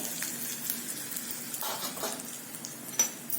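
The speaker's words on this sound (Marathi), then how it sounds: "ही छान तयार झालेली कडकडीत फोडणी यावरती घालायचं" A steady crackling sizzle of cumin, dried red chillies and spice powder hitting hot oil for a tempering, fairly quiet and continuous, with a brief sharper pop near the end.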